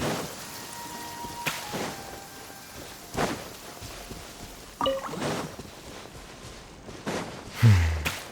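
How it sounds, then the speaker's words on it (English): Heavy rain in the video game Genshin Impact, a steady patter with scattered sharper drops and thumps, moderately loud and continuous with no talking. "This heavy rain must be quite an inconvenience for you."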